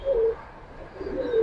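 Gangchil Kaldom high flyer pigeons coo softly close by, two short low cooing phrases separated by a brief pause, with no one speaking.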